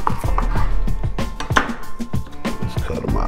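A knife slices a peeled onion into quarter-inch rings for crispy Cajun onion rings, producing a steady run of crisp, close chopping strikes on a board.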